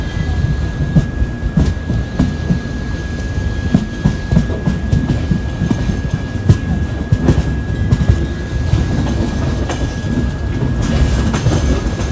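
The Shri Ganganagar - Kochuveli Express running on rails, heard from inside as a steady rumble with rhythmic clickety-clack of wheels over joints and a faint high whine, with no talking.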